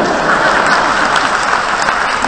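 An audience at a spiritual talk claps together in a loud, sustained, even round of applause that fills the space.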